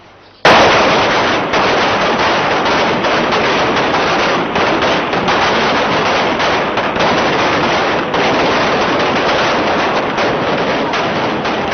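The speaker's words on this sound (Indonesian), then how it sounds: "Suara tembakan di pagi hari itu mengakhiri pendudukan 6 hari pelabuhan Sape" Police gunfire at Sape harbour in Bima on a morning when a crowd was forcibly dispersed. Dense, continuous rapid shooting roars without letup, loud and close, with no voices heard.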